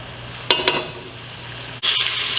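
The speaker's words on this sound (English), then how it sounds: "I'm just rendering some of the fat out, and we're going to leave the bacon in there for the entire cooking process." Bacon frying in a pot with a little oil, rendering its fat, with a steady sizzle, two clinks of a stirring utensil and a louder burst of hiss near the end.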